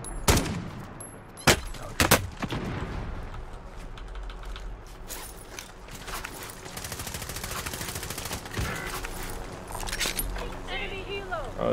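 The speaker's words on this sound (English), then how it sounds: "someone else is shooting me from over that way" Scattered gunshots and bursts of weapon fire in a multiplayer shooter video game, several sharp cracks early then ongoing rattling fire, mixed under frequent player talk.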